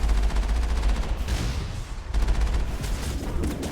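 Sustained rapid gunfire in the video game Mass Effect, aimed at a Geth Colossus, loud and continuous with dense overlapping shots, a brief lull mid-burst, then heavy firing resumes.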